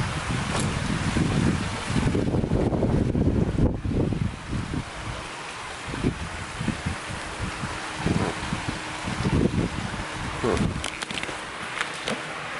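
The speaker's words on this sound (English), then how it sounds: "It's like super windy out here." Strong gusty wind outdoors ahead of a storm buffets the microphone, with rumbling, uneven bursts and rushing noise that rise and fall throughout, close and loud.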